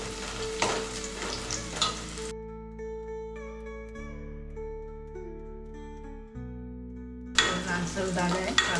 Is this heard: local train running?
no